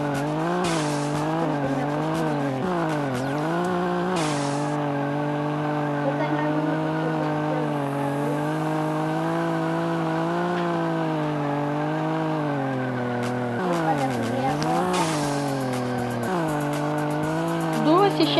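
A Chevette drifts in a first-person video game, its engine whining steadily with rising and falling revs and tires squealing in several long skids, while a person talks over it.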